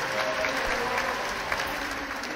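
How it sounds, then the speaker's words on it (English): A video game crowd cheers and applauds steadily at a big jump in a racing match, a dense, continuous roar with a brief swell near the end. "Every time they go for a big jump, you can hear the crowd."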